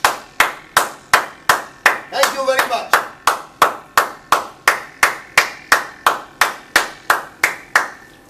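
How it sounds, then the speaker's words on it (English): A single person claps in an even, steady rhythm, close and loud, while a voice briefly speaks partway through. "you have given me a thunderous applause"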